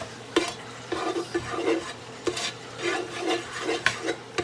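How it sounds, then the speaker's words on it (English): Food is stirred in a pan with a series of close scraping, shuffling strokes in an irregular rhythm over a light sizzle, with no talking. "just stir that up real good"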